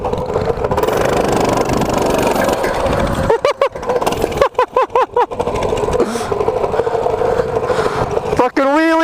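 A mini bike engine drones and revs through a wheelie, its note rising and falling in short bursts while voices shout excitedly over it.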